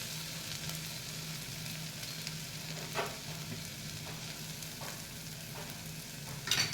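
Sliced onions fry in a pan for a potato curry and are stirred now and then. A steady, soft sizzle runs throughout, with a few brief scraping stirs near and no talking.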